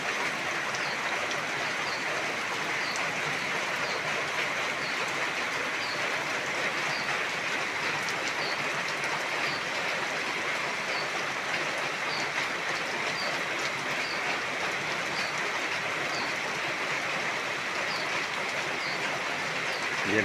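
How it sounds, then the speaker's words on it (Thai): Rain falling outside a rural house in Thailand, a steady, even hiss of downpour that holds constant throughout without any talk. "ฝนตกแล้วฝนตกแล้วมาเบิ่งบรรยากาศ"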